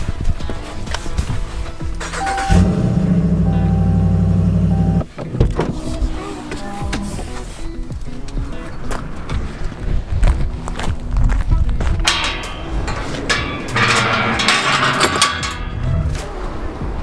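A six-year-old buckskin horse is walked at a stable, its hooves clip-clopping in an uneven rhythm close by, with a whirring mechanical sound at the start and scattered clatter and rustling around it.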